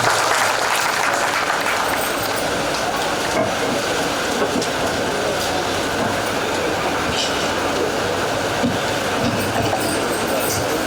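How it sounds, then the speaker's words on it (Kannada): Crowd applause at a journalists' award ceremony at Male Mahadeshwara Betta, a sustained and even wash of clapping from a large audience that holds steady for about eleven seconds with no voices over it. "ಅದಕ್ಕೆ ಮತ್ತೊಮ್ಮೆ ಚಪ್ಪಾಳೆಯನ್ನು ಸಲ್ಲಿಸಿ"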